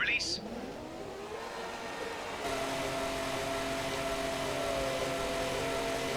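F1 car engine in the F1 2017 racing game, a steady high-pitched whine with an uneven, unhealthy drone, under continuous tyre and road noise with voices over it.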